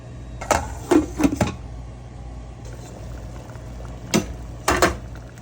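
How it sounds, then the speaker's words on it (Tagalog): Mung bean soup with sardines simmers in a pot, giving soft bubbling and a few louder pops and clatters in short bursts, with quieter stretches of low simmer between them. "Ato lang sana siyang papukalan guys"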